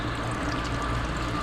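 Water running from a tank at a fish pond, a steady close rushing flow with a low rumble, unbroken for the brief moment.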